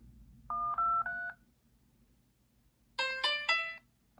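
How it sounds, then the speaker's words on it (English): Two bursts of electronic dial pad beeps from a RedMagic 9 Pro Plus phone: three steady tones, a pause, then a quicker run of four brighter beeps, close and clear with no talking. "So dial pad tones."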